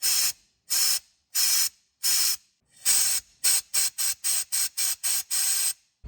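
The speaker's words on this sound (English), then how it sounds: "it feels like we're blowing into the oil galley" Compressed air hisses in sharp bursts into the oil galley of an AMC 287 engine during a seized rocker shaft repair, several longer blasts followed by a quick run of short rhythmic puffs, close and loud.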